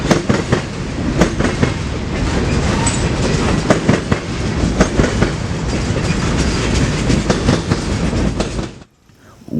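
A freight train of boxcars from Kansas City rolls past at close range in Decatur, Illinois, wheels clacking rhythmically over rail joints in a loud steady rumble that cuts off abruptly.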